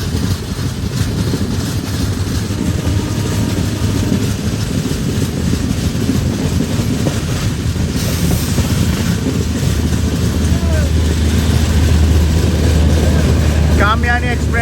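Kamayani Express passenger train running from Ballia to Mumbai LTT passes close by, a loud, steady rolling rumble of wheels and coaches that holds unbroken for the whole stretch.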